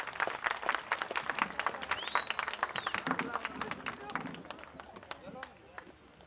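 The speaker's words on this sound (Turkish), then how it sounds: "kuvvetli alkışlarınızla sahneye davet ediyorum." An open-air summer concert crowd at İncilipınar in Denizli breaks into lively, rapid applause. Voices and cheers mix in before the clapping gradually thins out.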